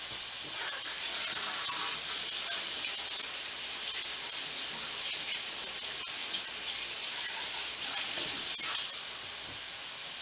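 Tap water runs in a steady hissing stream while greens are rinsed in a kitchen sink, close and continuous for most of the time before easing slightly near the end.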